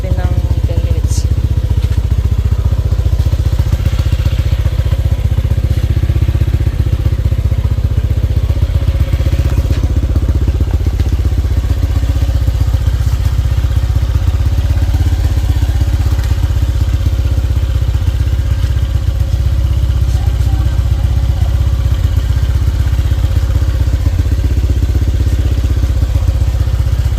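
A Honda Click 125 v3 scooter, bored to 160cc with 59 big valves, idling steadily as it warms up after a push start. The low engine drone runs unbroken and loud throughout.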